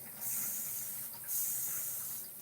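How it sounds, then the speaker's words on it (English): A spray bottle mists cleaning solution onto dishes beside a kitchen sink, two long, soft hissing bursts in quick succession, close by and alone. "I'm going to spray this on the dishes that are sitting to the side."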